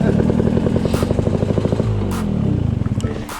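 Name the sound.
electric dirt bike riding on trail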